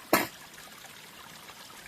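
Water trickles down beside a hiking trail, opening with a brief, louder splash before settling into a faint, steady dribble in the background.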